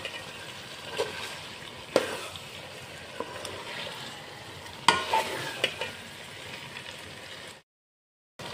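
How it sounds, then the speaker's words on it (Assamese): Chicken pieces fry in oil in a pot for biryani, a soft continuous sizzle punctuated by several louder scraping stirs of a spoon, close up, ending in sudden silence. "চিকেনৰ পৰা কিমান ধুনীয়াকৈ তেল এৰি আছে চিকেন আছে আৰু এতিয়া ভালদৰে আৰু এবাৰ লৰাই দি আছোঁ"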